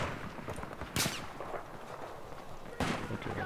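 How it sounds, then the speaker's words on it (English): Gunfire in the shooter video game Battlefield 4, with two loud sharp cracks about two seconds apart over a steady din of distant battle noise. "I'm getting shot at by a sniper rifle"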